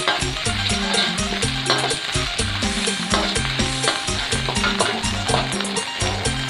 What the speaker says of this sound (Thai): ตามด้วยพริกแกง พริกแกงเผ็ดนะครับพริกแกงเผ็ดบ้านเรานี่แหละฮะผมซื้อมาจากตลาดนะครับ ผัดให้หอมเลยนะครับ